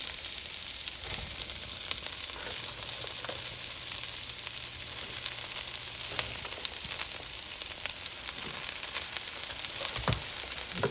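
Cabbage fries in a pot with jerk chicken and rice, giving a steady, close sizzle with occasional stirring scrapes and clinks and no talking.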